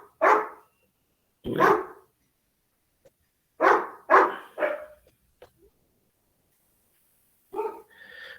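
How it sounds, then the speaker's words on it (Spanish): A dog barks nearby in a few sharp separate bursts with quiet gaps between them, during an indoor physics lesson, and a voice briefly speaks. "Y ese perro que no se calle."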